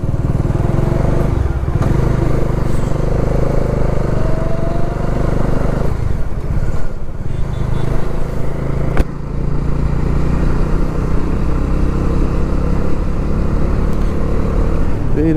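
A motorcycle ridden slowly along Delhi Road gives a steady low engine hum with road rumble, dipping briefly now and then.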